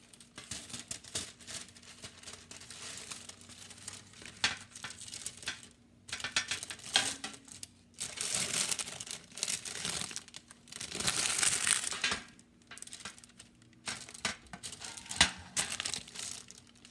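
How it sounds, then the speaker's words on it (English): Parchment paper crinkles and rustles as two baking trays are lined while making chocolate chips in a home kitchen, with continuous crackling bursts and brief pauses, close up, and no talking. "Line 2 baking trays with parchment paper."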